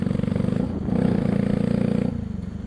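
A Pulsar 200NS motorcycle with a modified exhaust and no dB killer drones loudly and steadily up close, its throbbing engine note rising slightly mid-ride before settling back.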